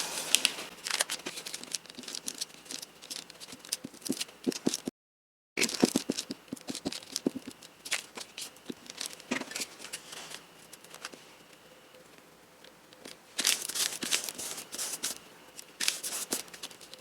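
A paper bag being folded and glued into a journal gives close crinkling, creasing and rustling of paper in irregular bursts, with a brief silent gap partway through.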